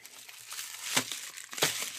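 A plastic packet crinkles close by during unboxing of an AverMedia device, scrunching rustles with two sharper crackling peaks, no talking.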